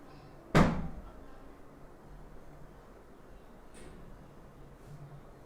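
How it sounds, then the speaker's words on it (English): A door shuts with one sharp, close thud near the start, then a quiet room tone follows with a faint later knock, at a guest house ashram in Vrindavan. "Can you go close the gate and then close this door?"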